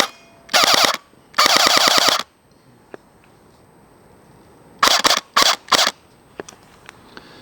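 A Barra 400E Gen 2 full-auto BB gun fires in rapid bursts, two longer strings followed by three short bursts, loud and close with quiet gaps and faint clicks between.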